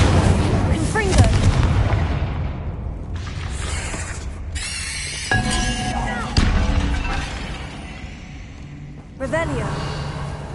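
Spell-blast explosions from the Confringo curse in Hogwarts Legacy, several loud booms and crackling bursts spread across a busy combat mix, with a voice calling out spells at points.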